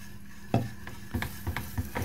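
Mac and cheese being stirred in a pot over low heat, with a run of soft scraping and clinking strokes in an uneven rhythm, close and fairly quiet.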